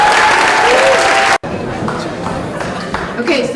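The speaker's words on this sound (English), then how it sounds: "Let's give a warm closing applause for Naomi" An indoor audience at a community International Day of Peace event claps warmly in dense closing applause, cut off abruptly, followed by quieter crowd chatter and scattered voices.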